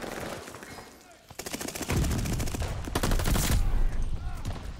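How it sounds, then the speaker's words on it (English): A max fire rate MP40 submachine gun in a Call of Duty game, firing rapid sustained bursts of close, loud gunshots with a brief pause before a second long burst. "this Max Fire Rate MP40. It's the same one I run on Warzone."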